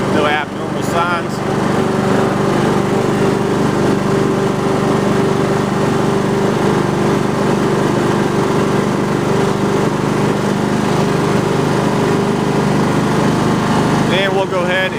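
A Husqvarna YTH20K46 riding lawn tractor engine drones steadily and loudly while the machine is driven, a continuous close mechanical hum with small fluctuations and no speech.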